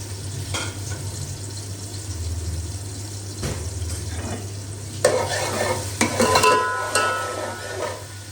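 Garlic ginger paste frying in hot ghee, a soft continuous sizzle with a low hum, then louder spoon-and-pan scrapes and clinks toward the end as it is stirred.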